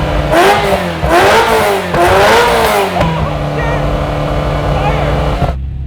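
A loud Ferrari 348 sports car engine revs up hard several times, then settles into a rumbling idle before cutting off abruptly.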